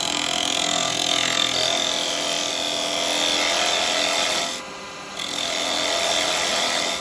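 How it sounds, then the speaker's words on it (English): Woodturning on a lathe, with a spindle gouge cutting the bottom off a small wooden pot: a loud, continuous, close-up shearing hiss of the tool on spinning wood that drops briefly near the end before resuming. "to take that bottom off, I'm going to use my spindle gouge"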